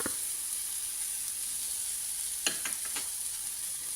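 Chili powder and curry leaves sauté in a hot pan for papaya chutney, a steady close sizzle broken near the end by a few sharp stirring scrapes.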